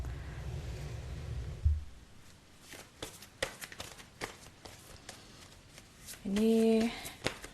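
Tarot cards are shuffled by hand in a run of crisp, irregular clicks and slaps, with a low rumble at the start and a short stretch of voice near the end.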